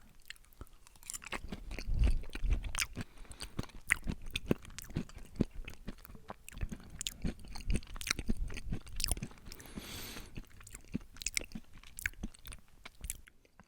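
Close, steady chewing of homemade pumpkin crumble, with soft crunches, bites and wet squishes repeating throughout and no talking.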